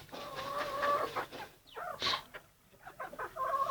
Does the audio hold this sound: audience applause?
no